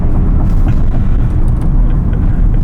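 Engine of a 2021 Audi RSQ8 SUV heard from inside while downshifting with quick shifts, a steady loud low rumble that fills the clip with no talking.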